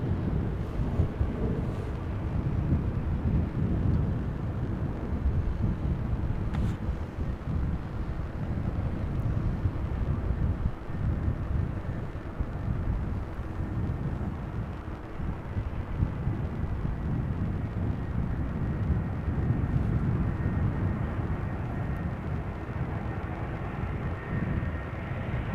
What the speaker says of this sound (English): In the foreground, A320 arriving from Alicante, Vueling, flight 1377, Airbus A320-200